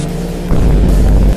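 A flying car's engine in an Iranian GTA-style mobile game gives a steady low rumble that jumps to a louder, deeper roar halfway through and then cuts off sharply near the end.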